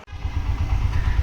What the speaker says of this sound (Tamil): சிங்கிள் சிலிண்டர் இன்ஜினில் இவ்வளோ லோடையும் வச்சுட்டு இந்த ஹில்ஸுங்க